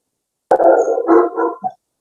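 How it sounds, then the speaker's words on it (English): A neighbor's dog lets out a loud, close bark-like vocalization lasting over a second, ending in a short yip, in an otherwise silent room. "My neighbor has dogs that make a lot of noise."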